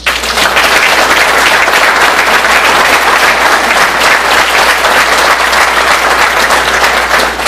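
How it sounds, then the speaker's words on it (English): An audience applauds at a university athletic hall of fame induction ceremony, with loud, dense clapping that holds steady throughout. "Let's give a nice big round of applause"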